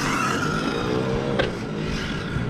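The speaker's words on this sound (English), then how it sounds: "the wheels are locking up instantly, that's why I'm getting the slides" A high-strung RC car on 6S power skids as its wheels lock under braking, its tires scrubbing in a brief smeared burst over a steady motor whine.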